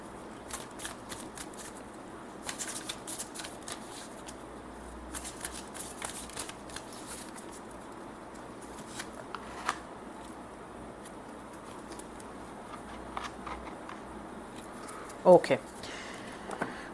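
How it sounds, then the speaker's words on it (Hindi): Oracle cards from a Cosmic Insight deck are shuffled and drawn for a tarot reading, with soft, repeated papery riffles and taps under someone speaking, then a brief louder rustle near the end. "अब कॉस्मिक इनसाइट से भी हम 2 कार्ड्स ले लेते हैं to get more clarity on the situation"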